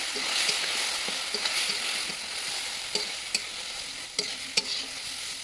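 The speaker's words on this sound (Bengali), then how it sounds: "কচুটা আস্তে আস্তে করে ভালো করে ভাজতে হবে।" Taro being stirred and fried in a pan for a puti fish and taro dish, a constant sizzling hiss broken by sharp scraping clicks of the spoon against the pan.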